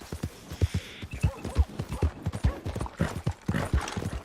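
Horse hooves clop in a rapid galloping rhythm, close and steady, with a brief whinny-like bright burst near the start, inside the video game Red Dead Redemption 2.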